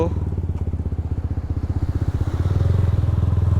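A Yamaha R15M motorcycle engine runs with a steady, rapid pulsing drone close by that rises slightly in pitch and loudness toward the end, with no voices heard.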